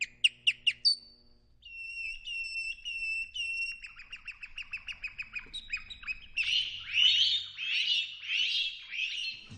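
Bird song during a singing lesson for birds: a series of sharp chirps, then sustained whistled notes and rapid trills, ending in rhythmic, repeated raspy phrases, clear and close.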